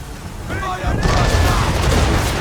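Ship cannons boom in the Assassin's Creed III naval game, a heavy blast rolling into a loud sustained rumble and crackle of fire, with shouted orders nearby.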